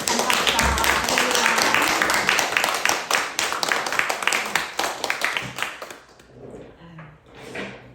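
Church congregation applauding together, a dense burst of clapping that fills the room and then thins out toward the end, with a few voices mixed in.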